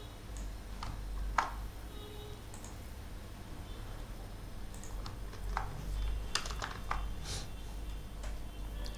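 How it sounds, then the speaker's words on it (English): Light clicking on a computer keyboard as blog content is entered, irregular soft keystrokes in short bursts over a low steady hum. "let's say we are typing some of the content here"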